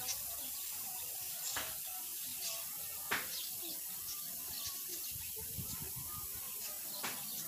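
Steady, faint, high hiss of air leaking from a loosened manometer on a PCP air rifle tube, continuous and close, with a few light clicks and taps over it.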